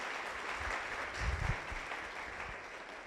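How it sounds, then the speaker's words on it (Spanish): A Spanish-speaking church congregation applauds during a family worship service. The clapping is brief, moderately distant and fairly faint, swelling slightly in the middle with no talk over it. "Dale un fuerte aplauso al Señor."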